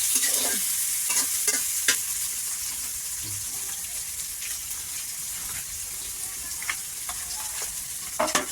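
Onion and chili stir-fry in a pan in a clay-oven kitchen, a soft steady sizzle with several sharp scraping stirs clustered at the start and end, close by, with no one speaking.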